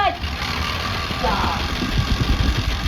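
A motorbike engine idles steadily, a low continuous rumble with faint knocking and vibration, close and fairly loud throughout.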